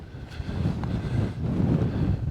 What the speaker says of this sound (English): it's really windy at the moment